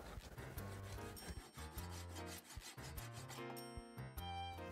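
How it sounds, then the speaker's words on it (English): A circular saw grinds steadily through a 5 cm thick beech slab, a loud continuous rasping whine with shifting pitch as the blade cuts. "I used my circular saw to cut the wood along the line, making sure I take several passes"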